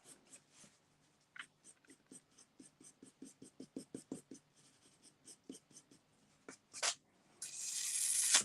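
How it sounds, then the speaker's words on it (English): Blending pencil rubbed across paper in an art class, a series of short scratchy strokes in quick rhythmic bursts, close and quiet, ending with a louder sustained rasp. "I'm going to use my blending pencil a little bit more now"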